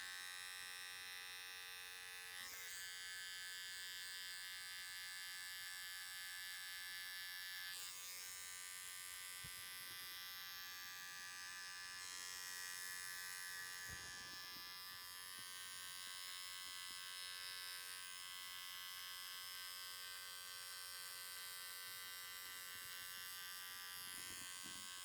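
An electric hair trimmer in a barber class buzzes steadily and close for the whole stretch, a constant bright motor whine with slight shifts in tone as it moves, with no talk over it.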